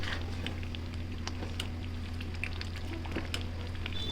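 Besan pithla with chopped dill greens simmering in a pan on a low gas flame, giving a steady, quiet bubbling and soft patter over a constant low hum, continuous and close.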